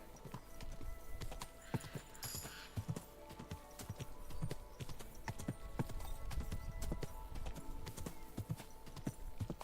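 Horse hooves clip-clop steadily on a road in the medieval video game Kingdom Come: Deliverance II, a continuous rhythmic trotting with scattered sharp knocks, moderately close and alone without speech.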